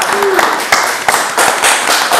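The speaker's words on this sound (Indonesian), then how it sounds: "tepuk tangan dong untuk UPBJJ UT Purwokerto" An audience applauds during a university sports and arts event, bursts of dense clapping rising and falling over about two seconds, loud and close.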